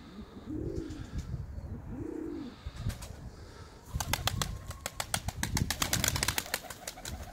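Short-beaked Iraqi Mosul fancy pigeons give a few soft, low rolling coos close by, followed by a burst of loud rapid wing flapping and clattering movement.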